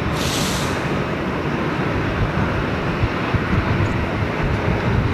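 A British Airways airliner taxis in, with a loud, steady broadband engine roar and rumble that holds constant throughout and carries no voices.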